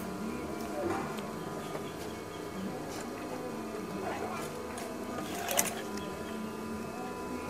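A sewing machine stitches a curtain hem, its steady mechanical whir running continuously with faint clicks, while a person talks over it.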